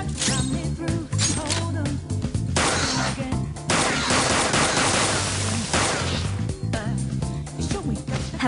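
Rapid, sustained gunfire from a gun in the video game Persona 5 Royal, dense crackling bursts layered over a steady game music bed, loud and continuous for the whole stretch.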